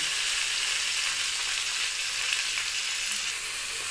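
Chopped tomatoes and salt sizzling steadily in a hot pan, a continuous close frying hiss with no pauses, cooked for a spicy khoira fish curry.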